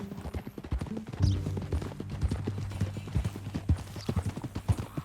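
Horse hooves clip-clopping at a steady walking rhythm in Red Dead Redemption 2, close and clear, with a low rumbling tone running underneath the repeated hoof strikes.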